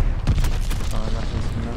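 Glide bomb explosion in Call of Duty: Vanguard, a heavy booming blast with rumbling, crackling debris over a short burst, with a voice partly under it.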